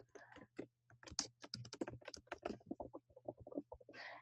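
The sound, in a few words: typing code on a computer keyboard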